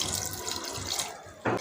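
A cup of water poured into a pot of keema, a brief close splashing rush that runs without a break and ends in a louder gush.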